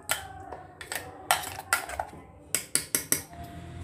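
Metal pan and utensils clink and clatter as tempering is prepared for a brinjal gojju, with sharp, irregular knocks in clusters and a quick run of four bright strikes near the end, close and alone.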